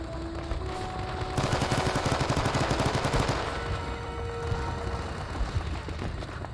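RPD machine gun fire in the video game Men of Valor, Marines holding Hill 861, a sustained rapid burst of automatic fire lasting a couple of seconds over steady background battle noise.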